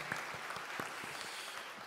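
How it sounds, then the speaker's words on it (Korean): Church congregation at a Sunday service applauding to welcome a newcomer, a steady wash of clapping from many hands at moderate distance with no speech over it. "우리 큰 박수로 우리 사랑의 마음을 담아서 축복하겠습니다."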